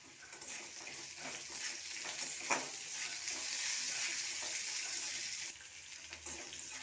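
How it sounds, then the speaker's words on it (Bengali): Cashews and raisins fry in oil in a pan while semolina upma is being made, a steady soft sizzle with occasional stirring scrapes, close and fairly quiet. "দেখুন এই সবগুলো ভালোভাবে ভাজা হয়ে গেছে।"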